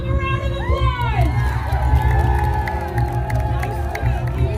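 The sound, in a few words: crowd applause and cheering for volunteer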